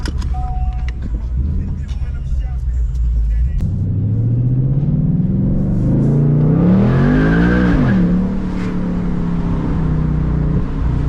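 A loud 2024 Ford Mustang GT engine, stock, revs up and rises in pitch, roaring close by with a deep rumble, then settles into a steady drone.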